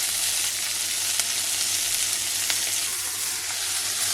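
Potatoes and poblano peppers sizzle steadily in a hot pan, a close, continuous frying hiss with faint stirring scrapes near the end.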